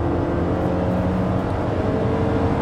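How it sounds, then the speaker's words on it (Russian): A Honda CR-V with a CVT accelerates hard at full throttle, its engine giving a constant loud roar heard from inside the cabin, steady and unbroken, without speech. "Обороты доходят до 7000 и просто стоит ор, дикий ор в автомобиле."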